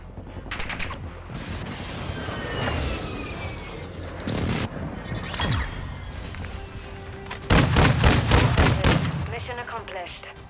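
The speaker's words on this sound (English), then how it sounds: "Friendly precision airstrike inbound." Precision airstrike explosions in the Call of Duty video game, a cluster of loud booming blasts and rapid gunfire-like bursts, with heavy rumbling impacts near the end over background battle noise and a brief voice.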